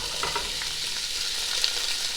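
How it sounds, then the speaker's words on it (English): Onions, celery and carrots sautéing in olive oil in a pan, a steady close sizzle and crackle with no pauses. "we're going to saute this for probably 10 minutes on low"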